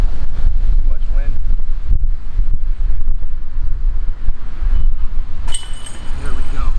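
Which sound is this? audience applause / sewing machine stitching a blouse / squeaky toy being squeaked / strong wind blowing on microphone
strong wind blowing on microphone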